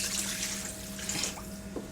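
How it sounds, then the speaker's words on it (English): Water runs steadily from a tap-like stream into gravy in a pan, a continuous close hiss and splash with no talking. "Add a little more water."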